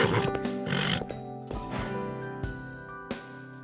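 A horse in the Love and Deepspace video game snorts and shakes its head, giving a loud, breathy blast followed by rumbling, snuffling exhalations with a sustained tonal backdrop.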